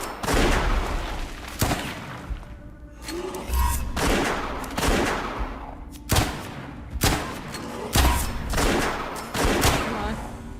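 Video game gunfire from the roguelike West of Dead rings out in loud, repeated bursts of rapid shots and booming blasts, nearly continuous across the whole stretch, with a little speech mixed in.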